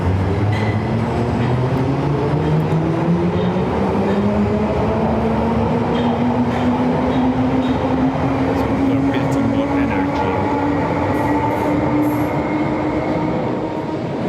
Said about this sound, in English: we have a nice arc that is created as the train departs